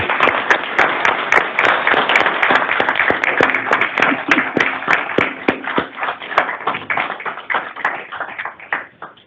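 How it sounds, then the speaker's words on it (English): Loud, dense applause from an audience at a state transportation board meeting, many hands clapping close by for several seconds before thinning out toward the end. "Let's give David a round of applause"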